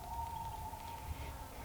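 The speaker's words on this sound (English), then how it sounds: "you can hear the loons in the background" A loon calls across a mountain lake as a single long, steady wailing tone, faint and distant over low outdoor rumble.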